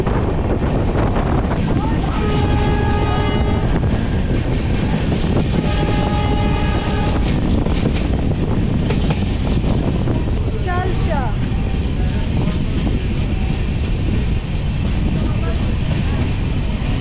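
The Dooars Tourist Special with its Vistadome coach rolls into Chalsa station, a loud, continuous roar of wheels and carriages with heavy wind buffeting the microphone, broken by a couple of rhythmic clattering bursts and a brief squeal.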